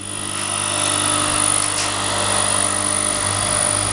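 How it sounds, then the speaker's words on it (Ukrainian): An electric motor spins steadily on a tabletop without vibrating, giving a continuous, loud, even whir that holds a constant pitch throughout with no rattling. "Ніяких вібрацій, мотор нікуди не їздить, нічого не вібрує, нічого не возиться по столі."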